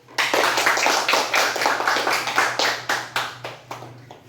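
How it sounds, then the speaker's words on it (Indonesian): Students in a classroom clap their hands together in a quick, fairly steady series of crisp claps, close and moderately loud with a low hum underneath, no talking. "Oke, tepuk tangan dulu."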